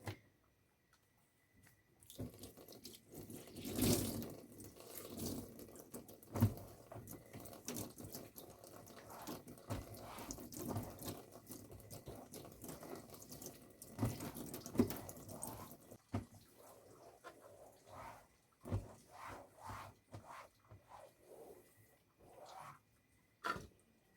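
Water runs from a tap at a home's newly installed private water supply, a steady faint splashing with drips and small sloshes throughout, and no talking.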